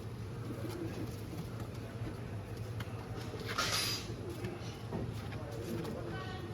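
Pigeons on a Punjabi village rooftop coo softly among low background noise, with faint voices nearby.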